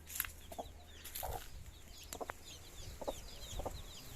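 Chickens on a farm with young chicks about, giving several short clucks and chirps scattered over a few seconds, moderately near, with faint background ambience and no talking.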